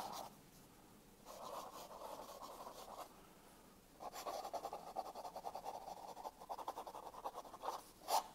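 A Sailor King of Pen fountain pen nib scratches across paper in quiet, close strokes, a soft rasping that comes in bursts separated by short pauses.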